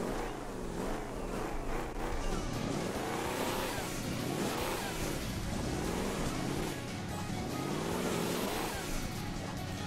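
A car engine in Hill Climb Racing 2 revs and accelerates continuously, its pitch sweeping up and down in repeated surges, loud and close with no talking.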